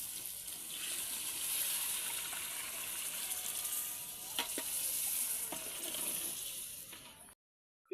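Measured water poured into sizzling biryani masala in a pan, a steady frying hiss mixed with splashing and a few sharp scrapes before it cuts off abruptly.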